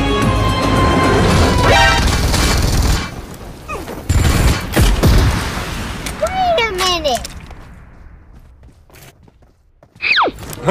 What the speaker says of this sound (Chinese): 加特林太猛了，扛不住了。